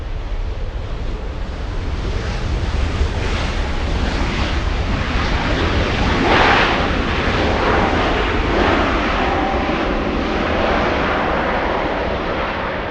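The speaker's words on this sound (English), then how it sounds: "Finnair on final." A Finnair airliner on final approach at LAX roars with a steady, broad engine and air rush that swells slightly midway, loud and continuous throughout with no talk.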